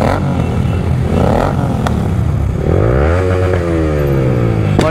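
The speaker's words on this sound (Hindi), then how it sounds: "काफी लाउड है यार कॉन्टिनेंटल 650" A loud Royal Enfield Continental 650 motorcycle revs hard on a busy group ride in Delhi NCR, the engine note rising and falling in steady sweeps with other bikes rumbling close by.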